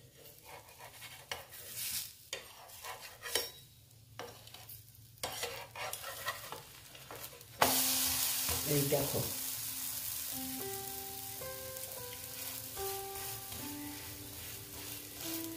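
Orange and gobindobhog rice pitha fry in oil in a pan, first with scattered clanks and scraping of a utensil, then a sudden steady sizzle as a little oil is added on top, close by; a voice speaks briefly early on.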